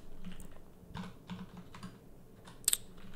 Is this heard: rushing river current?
no